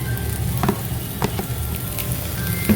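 Garlic, green chili and ginger sizzle steadily in a hot pan, with a few soft stirring scrapes and clicks breaking through the continuous close frying hiss.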